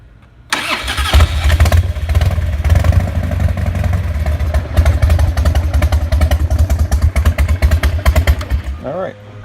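A Harley-Davidson FXDL Dyna motorcycle with a fresh BikeMaster battery cranks briefly, then fires up loud and close into a steady, lumpy V-twin idle with clattery bursts, running for about nine seconds before cutting off.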